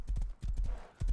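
A horse's hooves clop in the video game Rust, three close, heavy clusters of hoofbeats in quick succession with no clear whinny.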